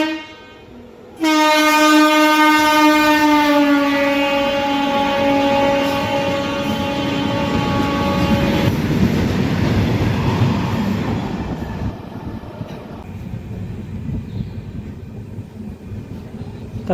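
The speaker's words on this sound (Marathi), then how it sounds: "10:10 कुरुडवाडी रेल्वे स्टेशनवरून आपली दीक्षाभूमी एक्सप्रेस निघालेली आहे प्लॅटफॉर्म नंबर 3 वरून." The Dikshabhoomi Express (11045) departs platform 3 at Kurduwadi junction station, opening with a long, loud horn blast, then the heavy rumble and clatter of the train rolling away steadily.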